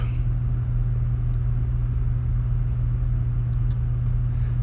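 The auxiliary power unit of a Boeing 787 spins up in X-Plane 11, giving off a steady, loud low hum and rumble that holds constant with only faint clicks above it.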